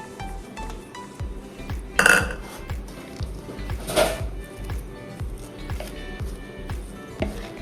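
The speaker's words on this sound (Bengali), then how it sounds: "এবার ভালো করে মাখিয়ে নেব।" Drumstick leaves being mixed by hand into gram flour (besan) batter in a bowl, with wet squishing and repeated clinks of utensils against the dish, close and fairly busy.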